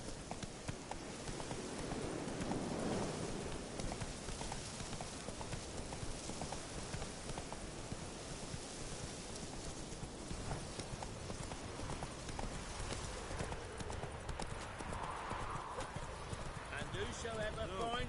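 Roach the horse's hooves clip-clop steadily in Witcher 3, a continuous close gallop-like rhythm running the whole stretch under game voices and a brief whinny.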